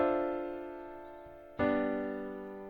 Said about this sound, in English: So it should sound like this as a triad.